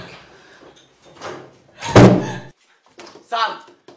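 A door slams shut once with a heavy thud amid a tense argument, people shouting and talking before and after the impact.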